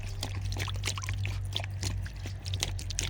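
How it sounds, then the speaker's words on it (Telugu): Water poured into a solar insect trap in a crop field, a continuous splashing trickle over a steady low hum, close and fairly loud. "1 లీటర్ వరకు నీళ్ళు పోయాలి ఇందులో"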